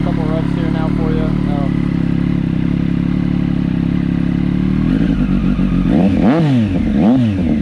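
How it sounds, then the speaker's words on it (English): A Triumph Moto2 race motorcycle running close by with modified airflow, its steady loud idle rising into a few sharp throttle blips near the end, with no talking over it. "We'll give her a couple revs here now for you."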